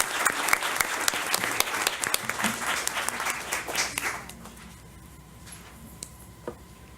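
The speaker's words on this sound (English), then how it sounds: "So let's give them a round of applause." Audience applause at a Montgomery County board of education meeting: brisk, moderately loud clapping from a room of people that stops abruptly partway through, leaving quiet room tone with a few stray sounds.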